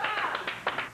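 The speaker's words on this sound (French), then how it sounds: "Toi, est-ce que tu passes ton temps à applaudir ou quoi?" One person clapping hands on a game show set, a few sharp separate claps spaced irregularly, fairly quiet and close.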